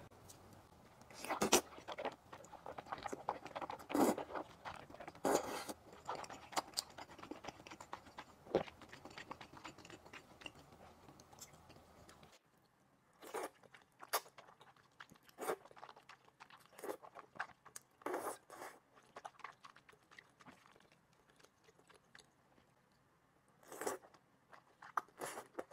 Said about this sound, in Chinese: 今天吃香香辣辣的流汁宽粉。